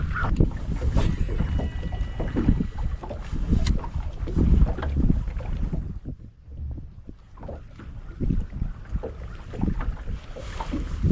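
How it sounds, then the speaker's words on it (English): Strong wind gusts across the open water of Stockton Lake while boat fishing, a loud, rumbling buffet on the microphone with a brief lull midway before the blustery roar returns. "I didn't think I was going to have that much wind up here today."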